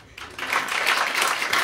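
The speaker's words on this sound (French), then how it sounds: "Vous pouvez l'applaudir." A stand-up comedy audience breaks into applause for a volunteer joining the comedian, brisk clapping that swells quickly after a brief quiet start and stays steady to the end.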